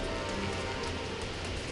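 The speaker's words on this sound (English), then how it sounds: "I'm only getting wet because of the drips from the trees." Water drips falling from trees onto a walker in wet weather on a mountain wildcamp, heard as a steady, dense patter of drops with no voices.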